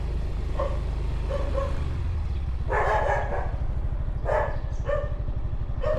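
A dog barks several times in short bursts, somewhat distant, over a low idling engine rumble.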